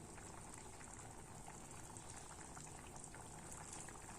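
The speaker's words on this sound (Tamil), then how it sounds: "கொதிக்க ஆரம்பிச்சிருச்சு" A pot of peas pulao at a rolling boil, a steady dense bubbling and gurgling that continues evenly throughout, fairly close and quiet, with no talking.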